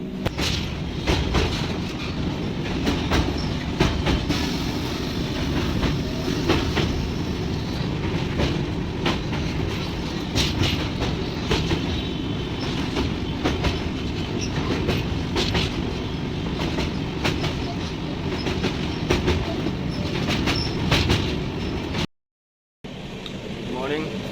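Inside a moving passenger train bound for New Delhi, a loud, steady rumble fills the clip, with rhythmic clickety-clack of wheels over rail joints, faint voices in the background and a brief dropout near the end.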